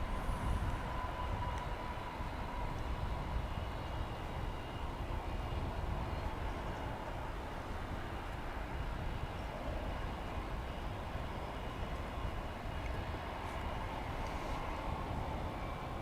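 An airliner, flight 869 bound for Los Angeles, takes off at DFW Airport with a steady broadband engine roar that holds loud and constant the whole time, heard from a distance with no voices.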